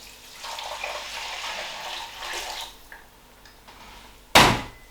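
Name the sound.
pouring a pint of water into stock pot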